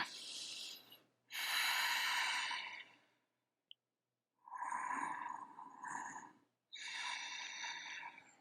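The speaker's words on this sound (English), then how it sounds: "We'll take 3 breaths." Three slow, deep breaths taken during a yoga flow, each a long airy inhale or exhale separated by short silences, close and fairly loud with no talking.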